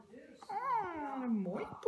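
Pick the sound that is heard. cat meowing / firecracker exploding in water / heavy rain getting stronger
cat meowing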